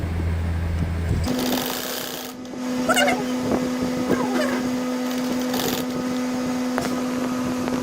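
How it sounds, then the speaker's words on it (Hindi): A sewing machine stitching an appliqué neck design runs with a steady, buzzing hum after a brief lower-pitched start, with faint rubbing of fabric over it and no talk. "आपने ये मशीन का ये पैर उठाकर इसकी मदद से और इसकी शेप के मुताबिक इसको सिलाई लगानी है"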